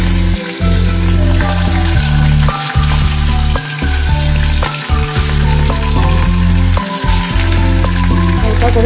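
Loud, steady sizzling and crackling of fish frying in hot oil, continuous throughout with occasional brief dips.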